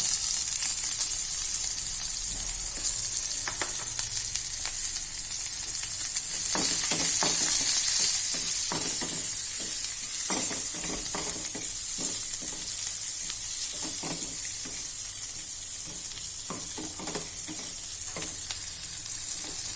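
Curry leaves and chopped green onion fry in a pan with cumin, a steady close sizzle and hiss running throughout, broken by repeated scraping and stirring strokes, with no talk.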